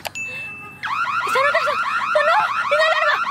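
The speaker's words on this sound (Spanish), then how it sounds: "¡Sonó! ¡Una alarma!" A car alarm starts after a brief beep, then cycles loudly through rapid warbling electronic tones, near and continuous with no talking.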